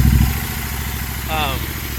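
A 2021 Royal Enfield Continental GT 650 motorcycle engine runs at a steady idle, its low rhythmic pulsing clatter close and continuous, with a brief higher whine rising partway through.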